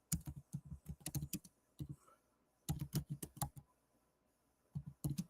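Fingers typing a search on a computer keyboard in quick bursts of crisp clicking keystrokes, separated by short pauses, close and fairly quiet, with no talking.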